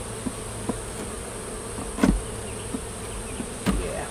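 Faint, steady insect buzzing of robber bees at a hive entrance, with a few brief louder passes as individual bees fly close, over a low outdoor background.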